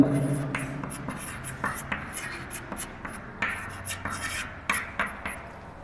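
Chalk or marker scratches and taps across a board in short, uneven strokes while numbers are written and crossed out, close and moderately quiet with a faint background hum.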